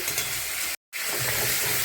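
Steady crackling sizzle of raw banana frying in hot oil with turmeric and salt, close and continuous, broken by a brief silent gap midway.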